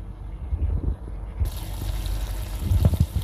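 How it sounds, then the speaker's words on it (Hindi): Water poured into a pot of browned mutton curry (qurbani goat meat) to make the gravy, a close trickling, splashing stream that grows fuller toward the end. "जितना मुझे शोरबा चाहिए उतना मैं इसमें पानी डालूँगा"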